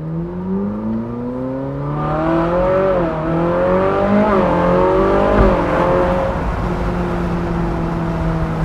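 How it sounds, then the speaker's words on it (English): Naturally aspirated Ferrari V8 in a 458 Spider revving up through the gears, a loud, rising howl with several sharp pitch shifts as it climbs and dips before settling into a steady drone, heard from inside the car. "hear that wonderful naturally aspirated V8 sound"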